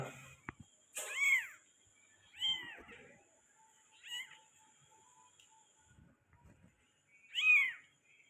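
Young Persian kittens of peke-face bloodline give four clear, separate meows spaced a second or two apart against an otherwise quiet background.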